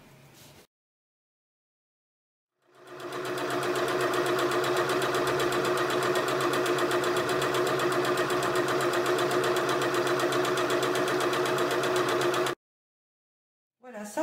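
A sewing machine stitches a fabric tote bag in one continuous ten-second run of rapid, even mechanical clatter, with short quiet gaps before and after.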